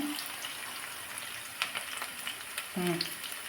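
Curry with onions frying in a pan, a low continuous sizzle with light scraping and occasional clinks, quiet and close, with a faint voice in the background.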